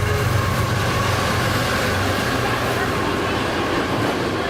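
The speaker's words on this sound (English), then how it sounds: "just on cue, we have one of the Conrail freight trains" A Conrail freight train passes in Yardley, Bucks County, making a loud, steady rumble of wheels and rail noise that holds without a break throughout.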